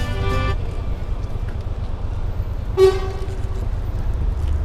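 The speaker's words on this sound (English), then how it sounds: "Honk." A short car horn toot cuts through strong wind noise, followed a couple of seconds later by another brief honk, fairly close.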